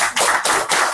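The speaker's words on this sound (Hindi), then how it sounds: "थोड़ा ताली दो" An audience claps hands at an evening devotional program in The Hague, a dense burst of applause swelling in three waves, close and loud with no talk over it.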